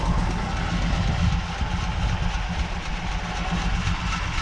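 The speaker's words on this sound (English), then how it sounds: "just a nice, quiet, Borla equipped CJ7" A Jeep CJ7 idles steadily with its carbureted engine breathing through headers and a Borla exhaust, giving a deep, continuous low rumble close by with no pauses.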